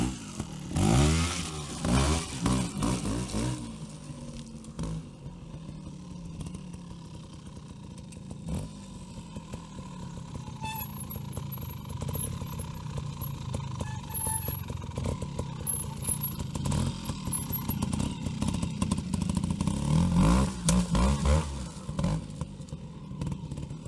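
A trials motorcycle rides downhill while shifting from second to first gear, its engine a steady low drone with brief revs and a few knocks, close and continuous.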